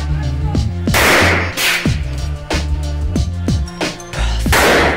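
Magnum handgun fire in the final bank shootout of the 2001 film Wasabi, loud repeated gunshots in quick irregular succession with crashing impacts, all close and forceful.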